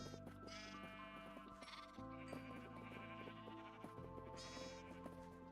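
Several sheep bleating in Minecraft, overlapping wavering cries repeating one after another over a steady background, with no talk.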